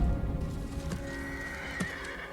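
A horse in the samurai action game Ghost of Tsushima neighs loudly while its hooves clip-clop steadily beneath, close and prominent over a dense game soundscape.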